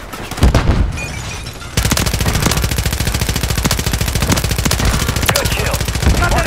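Rapid automatic gunfire in Call of Duty: Warzone on Ashika Island, a dense, loud stream of shots running almost without pause after a brief opening burst, with occasional heavier cracks.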